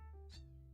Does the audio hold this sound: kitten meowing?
yes